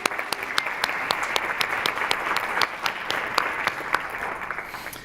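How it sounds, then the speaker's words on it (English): Audience applause at an education policy panel, a dense steady clapping from a roomful of people that holds evenly throughout, with a few sharper individual claps standing out. "So let's give him a round of applause."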